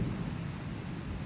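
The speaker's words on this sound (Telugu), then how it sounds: "ఉరుముతుంది." Low rumbling thunder rolls steadily through heavy rain on a rooftop in hilly country, a continuous broadband wash with no voices.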